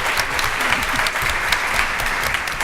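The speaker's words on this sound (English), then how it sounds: "big round of applause, warm welcome to Kate Proctor from the Evening Standard" Steady, dense applause from an audience at a political panel event, Progress Question Time 2019, many hands clapping continuously at an even level throughout with a faint room rumble beneath.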